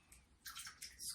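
Water streams and splashes out of wet paper pulp being squeezed by hand during papermaking, several short bursts of trickling and pouring, close and fairly soft.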